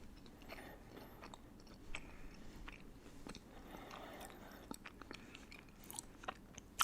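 Spicy chicken wings are chewed close to the mic, with soft wet mastication and occasional small crunches and bites over a faint steady background, with no talking.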